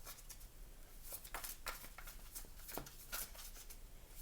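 Tarot deck being shuffled by hand, a quiet series of soft riffling and tapping bursts at irregular intervals, close and faint, with no voice over it.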